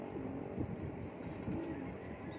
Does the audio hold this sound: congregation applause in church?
no